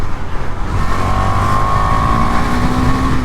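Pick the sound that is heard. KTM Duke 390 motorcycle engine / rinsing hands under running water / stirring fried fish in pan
KTM Duke 390 motorcycle engine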